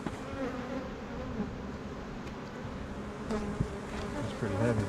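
Bees from an almond pollination hive buzz thickly and continuously up close, a dense droning swarm with occasional faint knocks underneath.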